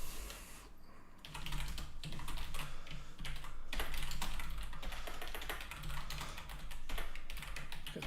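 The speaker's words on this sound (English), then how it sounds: "Test out my typing, which is not good." Rapid, uneven clatter of fingers typing on a computer keyboard during a live coding session, close and continuous with brief pauses between bursts of keystrokes, no voices.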